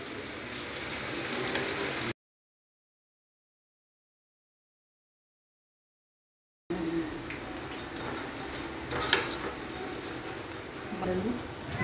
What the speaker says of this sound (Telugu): బెండకాయ పీస్ని బ్రౌన్ కలర్ వచ్చినంత వరకు వేయించుకోవాలి.